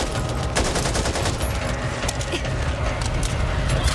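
RPK light machine gun in Back 4 Blood fires continuously and loudly, with rapid steady bursts packed close together over a dense, busy game background.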